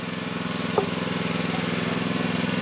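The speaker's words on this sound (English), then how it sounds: "this is a Grasshopper 321D. So it does have the Kubota 21 horsepower diesel engine in it" A Grasshopper 321D mower with a 21-horsepower Kubota diesel engine runs steadily at close range, giving an even, throbbing mechanical drone with one brief knock partway through.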